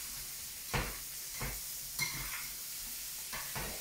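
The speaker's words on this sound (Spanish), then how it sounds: "Y ahora voy a mover un poco." A seafood paella sizzles softly in its pan while a utensil stirs it in a few separate scraping strokes, close and fairly quiet over a steady frying hiss.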